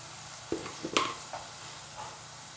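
Spinach and egg fry quietly in a pan, a faint low sizzle with a few brief utensil knocks and scrapes.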